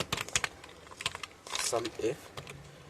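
Someone types a SUMIF formula into Excel on a computer keyboard, with close, quick, irregular key clicks and a brief murmur of voice midway.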